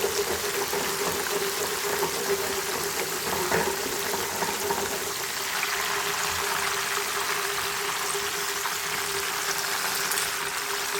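Turmeric water poured into hot oil while raw banana chips fry, giving a steady, loud, hissing sizzle that continues without a break, with a slight bubbling surge partway through.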